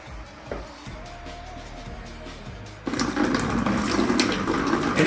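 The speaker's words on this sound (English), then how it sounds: "So, let's do a water test, shall we? Right, you ready? Jug of water," A jug of water is poured into a large DIY reptile enclosure for a leak test: a quiet faint trickle first, then a sudden loud, steady splashing pour that runs to the end.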